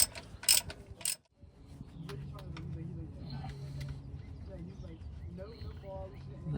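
On a 2003-2008 Toyota Corolla, a wrench clicks and ratchets on the oil drain plug, with a few sharp metallic taps, then a soft, steady mechanical rustle as the plug is turned loose, close and fairly quiet.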